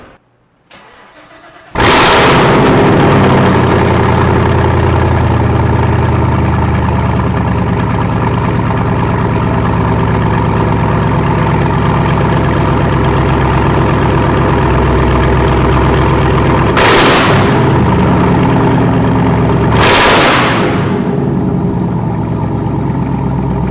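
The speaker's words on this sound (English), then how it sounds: "Had to hit y'all with the baby revs because this is a place of business." A Camaro ZL1 running an MRT version 3 exhaust with no mufflers starts up loud and deep inside a dealership, then holds a rough, throaty idle broken by two quick sharp revs near the end.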